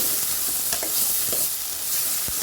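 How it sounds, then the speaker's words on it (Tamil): Steady, close frying sizzle from turkey berries sautéing in oil, with a few soft stirring scrapes in the pan. "அந்த எண்ணெயிலேயே சுண்டைக்காய் வதங்கிருச்சு"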